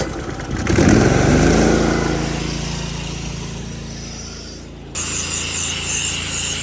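An 8 GPM pressure washer with a 2.3 injector downstreaming onto a commercial building gives a loud, continuous engine drone and spray hiss that fades slightly, then cuts to a steady run after a brief break.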